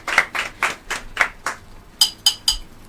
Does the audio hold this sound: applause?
yes